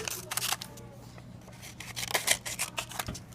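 Close, quiet snipping of scissors, a series of irregular crisp cuts in short bursts with pauses between them.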